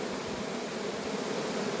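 Honeybees swarm around a beehive at an apiary as a queen is followed toward the hive entrance, producing a steady, dense buzzing drone that holds evenly throughout with no talking.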